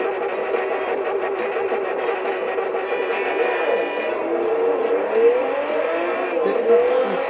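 Car engine driving in the racing video game Need for Speed Shift, a steady loud drone with gear changes and rising revs, continuous throughout.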